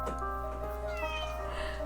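Cat meowing in the video game MazM: The Phantom of the Opera, a repeated, tonal meow over steady game background music with a constant low hum, moderately loud and close.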